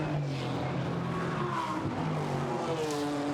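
GT4 race cars, including a silver and orange Porsche Cayman, racing at the Zolder circuit, with loud overlapping engine drones and tire noise holding steady throughout.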